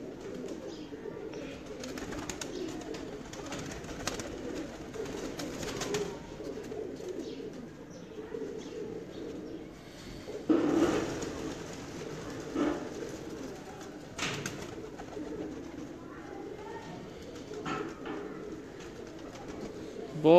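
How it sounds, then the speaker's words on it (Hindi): Pigeons in a fancier's loft, including a young bird, coo softly and steadily at a moderate distance, with a faint voice now and then in the background. "बड़ी कबूतरी है मियाँ साहब?"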